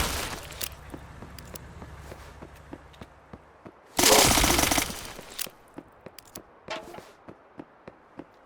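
A primary weapon fires in the game Those Who Remain: sharp single shots crack at intervals, with one loud sustained blast in the middle, close and punchy against a quiet background.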